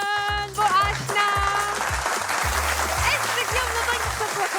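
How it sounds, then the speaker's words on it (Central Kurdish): A studio audience applauds on a televised quiz show, a steady wash of clapping running beneath a loud musical jingle with a pulsing bass line. "چەپڵەکانتان بۆ ئاشنا"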